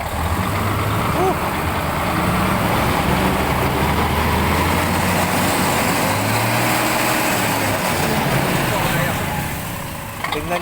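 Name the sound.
Mitsubishi 6M70 double EGR truck diesel engine revving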